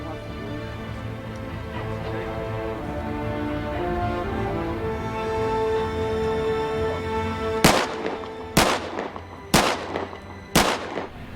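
During the making of the 2007 film Highlander: The Source, a gun fires on set: four sharp, loud, evenly spaced blasts ring out near the end after a stretch of low droning tones.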